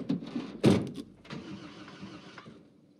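A truck engine starting in the zombie survival game Project Zomboid: a loud burst of ignition cranking catches near the start, then settles into a low, steady idle rumble that fades slightly.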